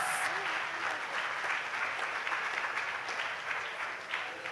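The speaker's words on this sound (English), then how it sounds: "Give them another round of applause." An audience at a primary school graduation gives a sustained round of applause, steady dense clapping from a crowd that stays full and even before easing slightly at the end.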